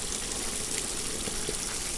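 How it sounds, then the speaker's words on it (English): Hot water pours steadily from a Camp Chef Triton 5L portable water heater, a continuous close gushing hiss with no talk. "Steaming hot water. With this portable water heater."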